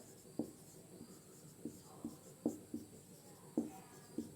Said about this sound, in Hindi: ठीक है, हिंदी में लिख लेंगे।